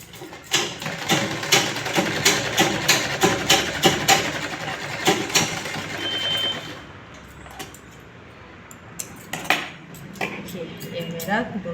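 A sewing machine stitches the shoulder seam of a lined blouse, its rapid mechanical clatter running in dense bursts for about six seconds, then stopping and leaving softer handling noises and a few clicks.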